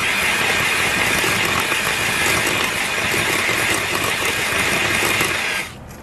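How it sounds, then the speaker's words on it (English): Chocolate cake donut batter with vanilla and banana extract being whisked in a bowl, a steady, continuous scraping and rattling that runs loud and close for several seconds, then stops abruptly near the end. "Okay, we're going to whisk that"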